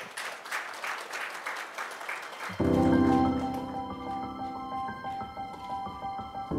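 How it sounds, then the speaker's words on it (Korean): Applause for three presenters closing the first session of a Korean forum on climate crisis, carbon neutrality and population change: a steady spread of clapping that fades as a loud tonal swell, like music or feedback, takes over midway. "수고해 주신 세 분 발제자님들께 더 뜨거운 박수 부탁드립니다."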